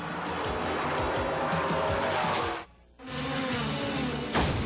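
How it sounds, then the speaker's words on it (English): Saleen Mustang race cars at night at Le Mans in 1997, engines roaring loudly and continuously with a sharp drop to near silence midway, then the roar returns with a brief rising burst near the end. "the cars continue to race throughout the night"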